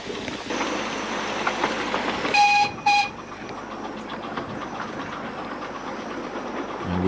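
A miniature steam railway train at Halton runs along the track with steady rumbling and clatter, then gives two short, clear whistle blasts at a curve near a passing loop before rolling on.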